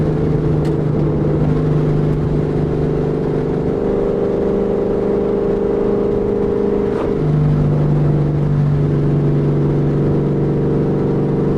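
A Ford Mustang GT V8 fitted with 4.10 gears revs up loud and close, climbing quickly through the range in steady tones, dropping briefly at a shift, then pulling again.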